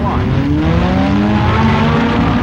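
A 1965 NHRA Winternationals drag race car, the Maloney Motors Plymouth Automatic, roars loud and close with a rising engine whine, under a commentator's talk.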